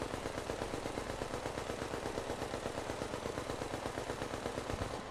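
The Black Market AK in Tom Clancy's The Division fires in sustained full-auto, a dense, steady rattle of rapid shots lasting several seconds, loud and continuous with no talk over it.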